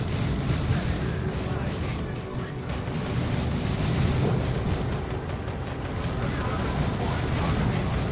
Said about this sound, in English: Double auto cannons here.